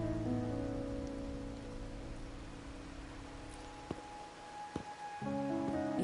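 Rain falls steadily in the video game Wuthering Waves, a soft even patter under faint sustained background music, with no voices.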